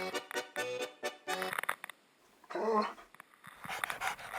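Truffle-sniffing dog Shotzi lets out short, high whimpers and whines close by, in bursts with brief pauses and some snuffling between them.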